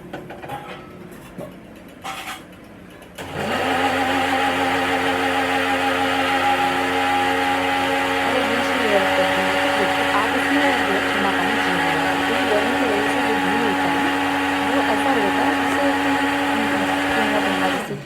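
An electric mixer grinder starts abruptly and runs steadily with a loud whirring motor drone, close by, continuing without pause.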